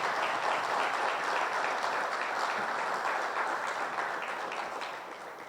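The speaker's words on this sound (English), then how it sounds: "And you all give them a round of applause." A large audience applauds an HR department at a nurses' announcement event, a dense steady wash of many hands clapping that runs for several seconds before gradually fading toward the end.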